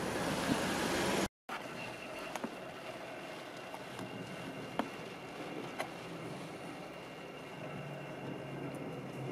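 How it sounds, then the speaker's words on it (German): Automatic car wash rollers passing over a car, heard from inside the vehicle on a rainy day: a steady low rumbling wash with faint splashes and occasional thumps, broken by a brief cut near the start. "man sitzt gemütlich im Auto und kann dabei zugucken, wie die Walzen über einen hinwegdonnern"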